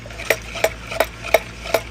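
A concrete additive powder is stirred into water in a pail, giving five evenly spaced scraping strokes about a third of a second apart, close and moderately loud over a low steady hum.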